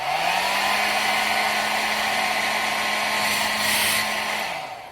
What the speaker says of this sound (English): There is a hairdryer. You know what's coming next, don't you? Hairdryer test.